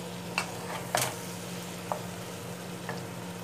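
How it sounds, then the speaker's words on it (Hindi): Spices frying with potatoes in a pan give a steady close sizzle, broken by a few sharp stirring scrapes and clicks; no one speaks. "इसको हमने 2 मिनट ज़रा अपनी स्पाइसेस को फ्राई करना है पोटैटो के साथ।"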